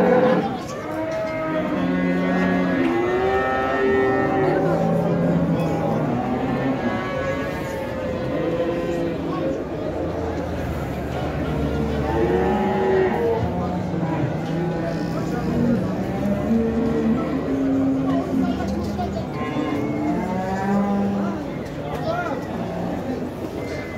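Cattle moo repeatedly at a livestock market in Şarkışla, Turkey, several overlapping low calls from a crowded herd including barren cows, with people talking throughout in the background.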